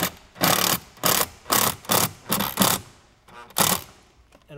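A screw driven into wood by a power drill while mounting an overhead screen in a car headliner, heard as a run of short whirring bursts with brief pauses, ending in a final burst.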